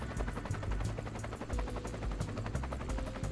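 Helicopter in The Escapists 2 at a custom island prison, a loud continuous rotor thrum with rapid pulsing chop dominating throughout, no talk.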